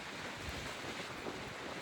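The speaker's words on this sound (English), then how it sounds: "It is so windy." Strong outdoor wind roars steadily, buffeting the microphone with a dense, continuous rush of broadband noise from start to finish, with no voices.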